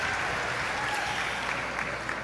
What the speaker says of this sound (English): if she could get a huge round of applause